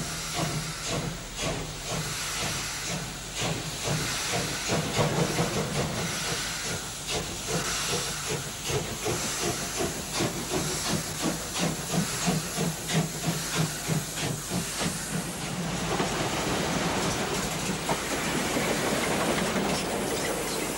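East German Reichsbahn steam locomotive in 1988, loud continuous steam hiss with rhythmic chuffing and clattering wheels on rails, steady and close throughout with no voices.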